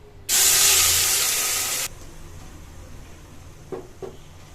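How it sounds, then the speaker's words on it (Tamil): A loud burst of sizzling hiss erupts suddenly as masala is poured into hot oil, holds for over a second, then cuts off, followed by two faint clinks. "மசாலா அப்படியே எடுத்து ஊற்றிக்கணும்"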